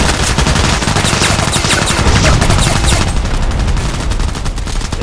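Gunfire in the online shooter Contract Wars, where an MP-133 pump shotgun is in use. Loud, dense shots crackle almost continuously and close up across the whole stretch.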